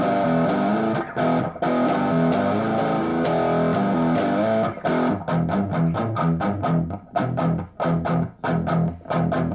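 An electric guitar plays through a Positive Grid Spark amp in crunch mode with gain fully up, loud sustained distorted chords that break into choppy, rhythmic strums with short gaps toward the end.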